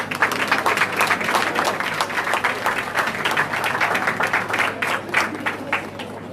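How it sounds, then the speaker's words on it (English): An audience gives a round of applause for the presenters at a meeting, dense steady clapping from many hands filling the room, moderately loud and sustained with a faint low hum beneath. "let's give all our presenters another round of applause"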